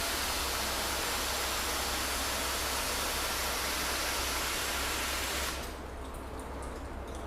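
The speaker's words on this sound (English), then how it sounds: "Let's just go over with the hose in a mist function." A garden hose on mist setting hisses a steady, broad spray of water over a car panel in a garage, then cuts back to a quieter trickle near the end.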